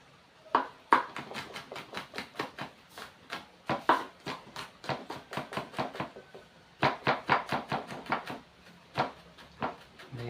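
Onion and garlic chopped with a knife on a cutting board, sharp close knocks in quick uneven bursts with brief pauses between runs.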